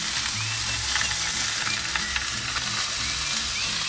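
Meal-kit steak frying in a pan of olive oil, a steady loud sizzle with small pops and crackles running throughout, no voices.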